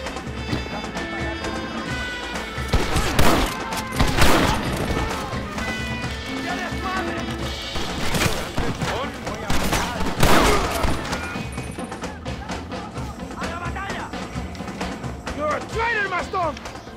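Gunfire in the Western video game Red Dead Redemption, a shootout with repeated gunshot cracks and bursts scattered through the scene, layered over game music, hoofbeats and voices.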